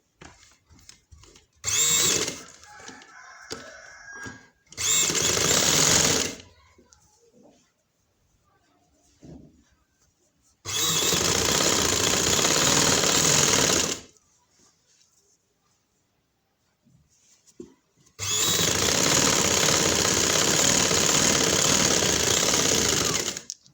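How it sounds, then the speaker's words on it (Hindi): A sewing machine stitches a shalwar in three loud, rapid mechanical bursts of a few seconds each, with quiet handling and pauses between runs. "उधर से हमने सिलाई स्टार्ट की"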